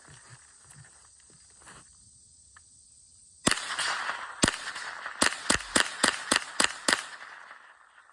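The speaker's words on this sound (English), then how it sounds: "We'll start with a Marlin Model 60. This is that Armscor ammunition." Marlin Model 60 .22 rifle firing Armscor ammunition outdoors, a quiet buzzing lull followed by one sharp crack and then a quick string of about eight sharp shots spaced under a second apart, loud and close.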